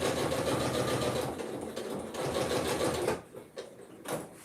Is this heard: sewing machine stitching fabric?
yes